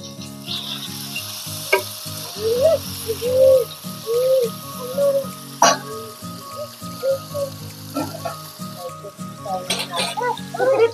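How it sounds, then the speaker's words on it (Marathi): Oil poured into a pan on a wood-fired clay stove sizzles and crackles steadily near the microphone, with scattered sharp pops and faint voices in the background. "असं तेल ओतूया"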